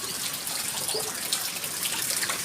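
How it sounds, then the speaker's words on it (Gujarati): Heavy monsoon rain pours steadily after five days of nonstop downpour, a dense, even wash of falling water and dripping that stays loud and unbroken throughout, with no voices. "આ વરસાદ આપણે છે ને કંઈ ઊભો નથી રહેતો. ટપ ટપ ટપ ટપ ટપ ટપ 5 દિવસ સતત શરૂ છે"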